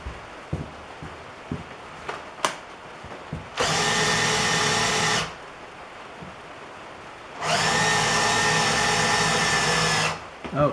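A cordless power drill whirs in two steady bursts of a couple of seconds each, close and loud, with quieter clanks and handling knocks in between.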